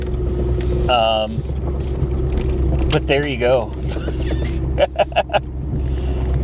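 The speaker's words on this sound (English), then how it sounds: "That idle is definitely too high." A 1983 Mercury Cougar engine idles fast and steady, a continuous low rumble running throughout, with someone talking briefly over it and a few short sharp knocks near the end.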